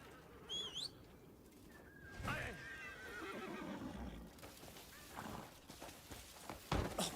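A horse in a video game whinnies in a rising, shrill call, followed by snorting and hoof movement against faint outdoor ambience and distant bird chirps.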